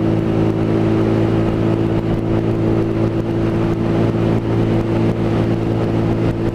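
A Lexmoto ZSB 125 motorcycle engine holds a steady, loud drone while cruising in fifth gear on a road, with even tone and no gear changes, alone without talk.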